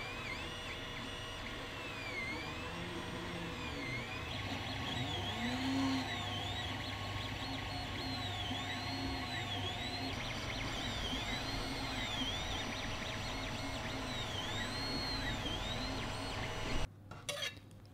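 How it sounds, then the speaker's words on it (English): A desktop 3D printer runs steadily while printing paddle shifter parts, its stepper motors sounding in repeating whining sweeps and hums that rise and fall at close range, with a brief clatter near the end. "and we can begin the 3D printing."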